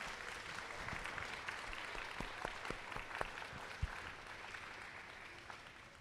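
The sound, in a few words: audience applause at kindergarten celebration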